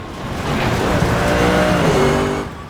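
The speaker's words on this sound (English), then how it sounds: "when you hear those onboards of race cars, and it's just this, scream" A race car engine from a video game screams at high revs through a headset, loud and sustained, swelling briefly and then fading slightly at the end.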